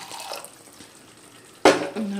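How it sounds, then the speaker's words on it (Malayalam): Water is poured suddenly into a pan of roasted-coconut chicken curry, a loud splash and sizzle after a quiet stretch of faint kitchen clatter, settling into a steady hiss. "കുറച്ച് വെള്ളം കൂട്ടിയിട്ട്"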